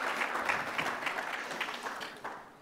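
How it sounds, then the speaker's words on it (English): An audience applauds new inductees into the South African Hall of Fame, with dense, even clapping that gradually fades toward the end. "I think we can applaud them one more time."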